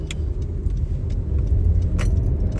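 Car traffic on a busy street in Cuba, a close low engine rumble of vehicles with a few faint clicks and jingles on top, no one talking.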